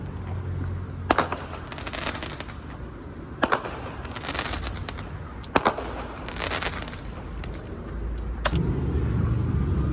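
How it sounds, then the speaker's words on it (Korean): Fireworks pop and crackle in scattered bursts at a distance in Toronto, over a rumbling outdoor background. "갑자기 밥 먹고 나왔는데 불꽃놀이 한다."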